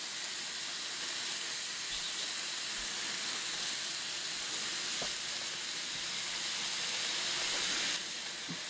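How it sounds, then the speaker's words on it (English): Bacon frying in a pan gives off a steady, dense sizzle and hiss with no letup, broken by a few faint pops and crackles, with no talking. "while that damn bacon's cooking"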